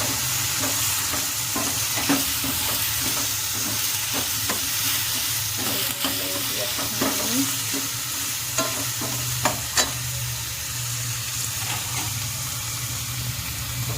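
Finely chopped cauliflower stalks stir-fry in a pan for Punjabi-style aloo gobi, giving a steady close sizzle with repeated scraping and clacking strokes of a spoon throughout, no voices.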